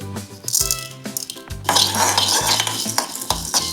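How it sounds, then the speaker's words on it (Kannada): Cumin, fenugreek and peppercorns frying for a Mangalore-style fish curry: close stirring with metal spoon scrapes and clinks in the pan over a soft sizzle, irregular and busy. "ಜೀರಿಗೆ ಫ್ರೈ ಮಾಡಬೇಕು ಸ್ವಲ್ಪ ಮೆಂತೆ"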